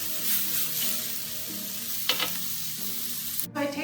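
Precooked octopus grilling in a pan makes a soft, steady sizzle that swells briefly, with a clatter near the end.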